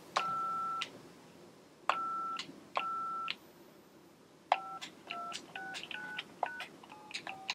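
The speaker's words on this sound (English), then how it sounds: "take a phone off hook and press the buttons until I can hear the DTMF" Telephone touch tones beep in a sequence: three longer dual-tone presses, a pause, then a quicker run of short button tones, clear and close, from an off-hook phone on a phone line simulator.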